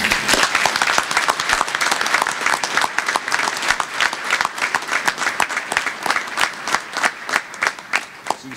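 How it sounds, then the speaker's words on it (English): Sustained applause from an audience at a Navy Sailor of the Year ceremony, dense clapping that starts loud and full, then thins into more distinct individual claps as it tapers. "Let's give a round of applause to all of them up here."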